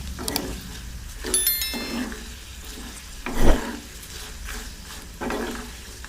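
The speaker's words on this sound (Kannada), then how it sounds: "ಒಣಮೆಣಸಿನ್ಕಾಯಿ ಹಾಕೋತೀನಿ. ಇದನ್ನು ಚೆನ್ನಾಗಿ ಸ್ವಲ್ಪ ಫ್ರೈ ಮಾಡ್ಕೊಳ್ಳೋಣ." Dried red chillies frying in a pan, a soft sizzle with a few metallic scrapes and stirring knocks, one sharp clatter midway.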